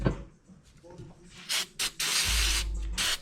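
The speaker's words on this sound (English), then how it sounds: "You can spray them with a little brake clean." Brake cleaner is sprayed on brake shims from a nearly empty can, giving a few short sputtering hisses and then one longer spray burst, close and fairly quiet.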